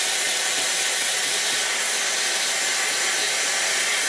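A Dyson hair dryer blows out a section of a short French bob, a steady airy roar held at constant loudness from start to finish, close and uninterrupted, with no voices.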